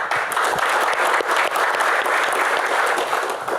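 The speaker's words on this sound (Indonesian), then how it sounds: "tepuk tangan untuk David." Audience applause at an Indonesian comedy Q&A event, a steady dense burst of clapping from a crowd that fills the room for a few seconds, loud and continuous with no talk over it.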